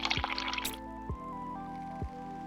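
Water dripping and splashing into a container in the sailing game Sailwind, a brief wet sploshing burst followed by a few soft, evenly spaced drips over a steady low ambient hum.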